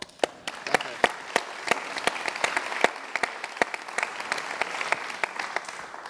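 An audience at a German-language discussion event applauds an American guest with steady, moderately dense clapping, individual claps standing out sharply throughout.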